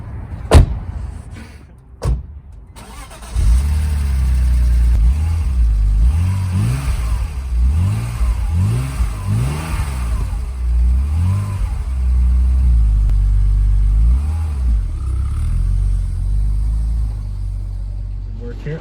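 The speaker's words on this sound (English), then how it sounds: "I've just turned this car on for the first time in 8 days" A BMW E46 that has sat for eight days, its engine cranking and catching after a couple of door thunks, then settling into a steady idle with several rising revs, loud and close, with a voice heard alongside.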